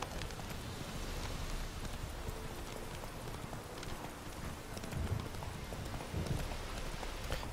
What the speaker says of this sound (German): aber irgendwie hier ist es nur am Regnen